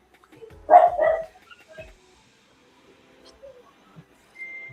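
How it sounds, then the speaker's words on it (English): A dog gives a short burst of two or three sharp, fairly close barks early on, followed by quiet with faint small noises and a brief tone near the end. "Now she's getting some barks in."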